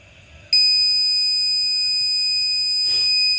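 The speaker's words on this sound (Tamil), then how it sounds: "இப்போ இந்த கேஸை இந்த கேஸ் சென்சார் டிடெக்ட் பண்ணி பஸர் சத்தமும் கேட்குது." A loud, steady electronic gas sensor alarm buzzer switches on abruptly as gas is detected and sounds continuously without pause, a high piercing tone close by.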